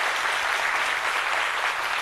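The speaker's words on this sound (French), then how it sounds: "Et pour vous, ces applaudissements aussi pour souhaiter" An audience at a French-speaking gathering gives brief, dense applause, an even wash of many hands clapping for about two seconds.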